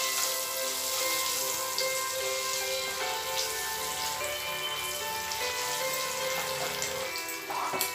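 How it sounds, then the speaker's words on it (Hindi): Turmeric and Kashmiri red chili powder sizzle steadily in hot oil for an egg lababdar curry, a dense, continuous crackling hiss that stays loud and even throughout, with no talking. "तेल में हम हल्दी और लाल कश्मीरी मिर्च का डाल देंगे"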